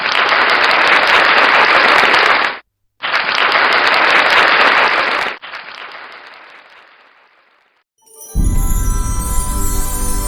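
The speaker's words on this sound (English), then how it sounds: "Thank you so much, and this applause is for you." Two bursts of loud, dense applause separated by a brief gap, then a fading clapping tail and silence before a musical sound enters at the end.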